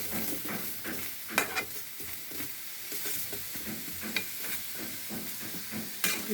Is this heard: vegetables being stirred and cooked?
yes